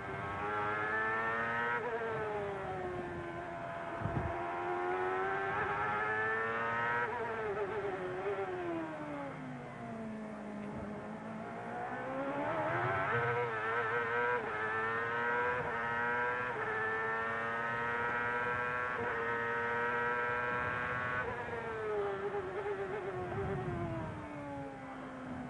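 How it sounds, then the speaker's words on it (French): Indy race cars at the 2000 Grand Prix of Monterey at Laguna Seca scream through the Corkscrew, engines rising and falling as the cars pass in the distance, heard faint and continuous. "Vous entendez les roues arrière délestées sur cette bosse du corkscrew."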